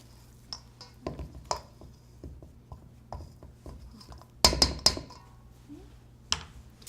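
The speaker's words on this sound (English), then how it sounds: "fold them in with the spatula" A spatula gently folds chocolate chips into cookie dough in a bowl, giving soft scraping taps and squishy rubs, with a few louder clinks against the bowl near the end.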